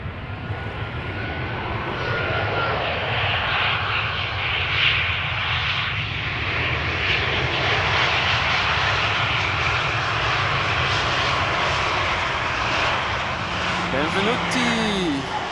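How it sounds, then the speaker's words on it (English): An ITA Airways Airbus A320 lands at Amsterdam Schiphol, its engines a loud, continuous broadband roar that holds steady for the whole stretch while a person talks over it. "ITA Airways flight 110, landing now, arriving from Rome."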